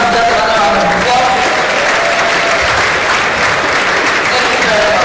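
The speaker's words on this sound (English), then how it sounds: "I think the inaugural lecturer deserves another round of applause." A lecture hall audience gives the inaugural lecturer a loud, continuous round of applause that fills the whole stretch evenly without letting up.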